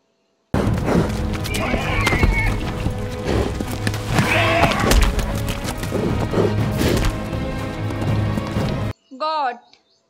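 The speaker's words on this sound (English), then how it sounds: "Horse." A horse neighs amid a busy, noisy scene of clattering and voices, followed by a short, separate whinny-like call at the end.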